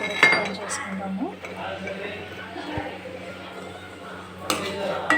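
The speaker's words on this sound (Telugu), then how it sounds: "చూడండి, ఈ రోల్లో అయితే దంచేసుకుంటాము" Gongura leaves with green chillies pounded in a stone mortar make a series of hard clinking, knocking strikes, heard close and mixed in with speech.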